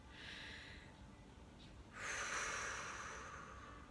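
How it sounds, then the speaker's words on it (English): A slow, deep breath in and out, close and fairly soft, with a fuller exhale in the second half and no talking. "And just take deep breaths."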